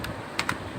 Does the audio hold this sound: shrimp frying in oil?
no